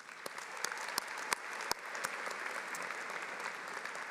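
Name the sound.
applause at commencement ceremony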